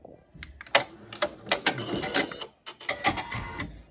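An embroidery machine trims its thread while stitching a side bow appliqué on a sweatshirt, producing quick mechanical clicks and whirring taps in uneven bursts, close and moderately loud.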